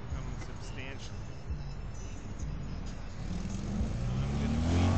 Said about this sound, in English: you can see the traffic here is still fairly light